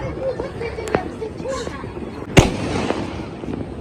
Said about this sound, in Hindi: पापा मेरे छत पे से डायरेक्ट मार्ट में चॉकलेट बम फेंक रहे हैं